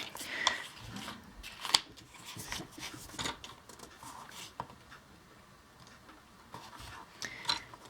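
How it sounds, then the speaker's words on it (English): Scissors trimming a sliver off paper for a 6x6 mini album, a few faint short snips and rustles close by amid quiet handling noise. "I'm going to trim the tiniest bit off the other side as well"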